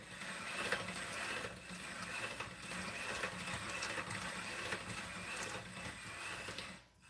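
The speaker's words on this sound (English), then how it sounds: "I'll just use the hand crank" A hand-crank noodle machine rolls egg noodle dough, giving a steady, close ratcheting and gear-clicking churn that runs continuously for about seven seconds before stopping abruptly.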